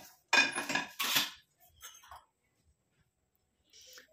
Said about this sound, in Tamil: இப்போ நம்ம இதை அடுப்பில் வச்சாச்சு.